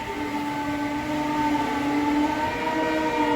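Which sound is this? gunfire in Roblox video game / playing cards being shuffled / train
train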